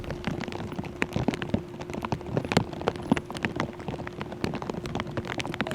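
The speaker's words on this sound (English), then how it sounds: "But meanwhile, Corey, the rain is picking up." Steady rain falls during a professional disc golf tournament round, a dense patter of drops striking surfaces at close range, with no talking.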